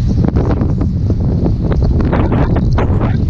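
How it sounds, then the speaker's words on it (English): Strong 25-knot wind buffets a sailboat at sea in the North Pacific, loud continuous gusting roar and microphone rumble with rustling flutter, close and unbroken. "25 knots of wind."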